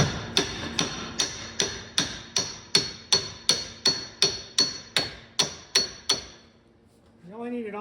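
About a dozen evenly spaced, sharp metallic taps drive a seal back onto a Dana 44 differential, ringing close and clear before stopping, after which a voice briefly speaks.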